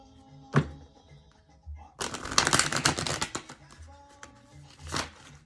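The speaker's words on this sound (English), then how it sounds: "Shuffle." A sharp tap, then a rapid riffling burst of cards being shuffled close by, ending with a few soft taps and a final knock.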